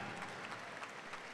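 Audience applause at a live panel event, a steady dense patter of clapping hands filling the whole moment without pause, fairly faint and even throughout, with no voices on top.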